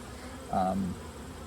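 A honey bee buzzes briefly and close during a fall hive inspection, a short rising drone over a steady background hum.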